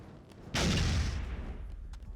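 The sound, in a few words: grenade explosion in the video game Dead Rising 2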